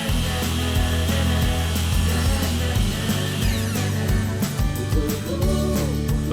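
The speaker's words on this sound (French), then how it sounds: "Réglez l'angle de coupe de votre scie à onglet à 45 degrés. Faites la coupe du premier côté." A miter saw set to 45 degrees cuts door moulding, a loud steady motor whine with a rasping bite through the wood that lasts several seconds, with no talking.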